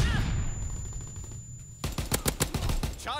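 Rifle fire in the World War II shooter game Call of Duty: WW2 crackles in a rapid burst of sharp shots after a quieter stretch of background game sound.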